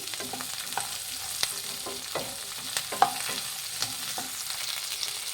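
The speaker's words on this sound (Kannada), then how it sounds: "ಚೆನ್ನಾಗಿ ಫ್ರೈ ಮಾಡೋಷ್ಟು ತುಂಬಾ ಚೆನ್ನಾಗಿ ಬರುತ್ತೆ ಮೂಲಂಗಿ ಚಟ್ನಿ." Grated radish and coconut fry for chutney in a pan, a soft continuous sizzle with scattered spatula scrapes and taps close by.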